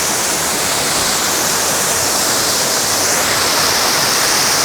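Mantayupan Falls in Barili, Cebu, roars as a loud, steady rush of falling water, close and continuous with no voices.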